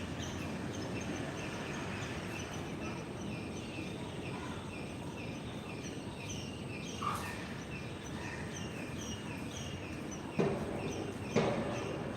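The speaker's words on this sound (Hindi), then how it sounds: "चिड़ियों की चहचहाट को सुने, केवल सुनना है" Faint birds chirping here and there over a steady, dense background hiss of insects and distant rumble in a natural setting at a meditation and yoga centre, with no one talking.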